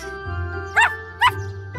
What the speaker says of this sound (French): Le petit chien appelle ses amis pour une compétition.